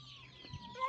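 A hen and chicks clucking softly close by in a brief, faint burst, with low murmurs and a thin peep at the end.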